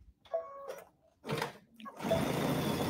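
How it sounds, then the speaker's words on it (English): A sewing machine stitches a zipper pouch in short bursts, starting and stopping with brief pauses before running steadily at the end, fairly quiet and close. "we're going to come over to the sewing machine"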